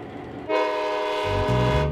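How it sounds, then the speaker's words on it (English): A loud, sustained horn blast from old locomotive 751, once of the Kansas City Terminal Railroad, rich and harmonic, starting abruptly after a moment of low rumble and holding steady to the end. "with a blast of her horn, old 751 is off to the next industry"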